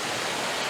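A waterfall gives off a steady, dense, full-band rush of falling water with no other sounds, heard only in a very short moment.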